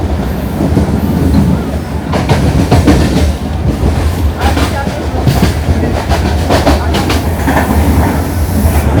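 The 12134 Mangaluru Mumbai Superfast Express runs at about 110 kph on the Konkan Railway line, a loud continuous rumble heard from inside the coach with rhythmic clickety-clack of wheels over rail joints.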